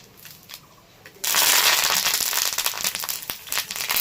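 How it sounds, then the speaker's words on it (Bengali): Black mustard seeds and curry leaves hit hot oil for a coconut chutney tempering. After a quiet start, a sudden loud sizzle erupts and keeps crackling with sharp pops, close by. "দিয়ে দিচ্ছি কালো সর্ষে আর কারি পাতা।"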